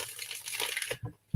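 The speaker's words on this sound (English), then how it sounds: "Let me shuffle one more time." Reading cards are shuffled by hand in a short, close papery rustle that ends in a few soft taps.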